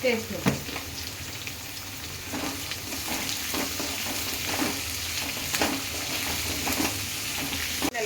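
Onions fry with salt in a pan, giving a steady close sizzle broken by repeated scraping stirs of a spoon against the metal.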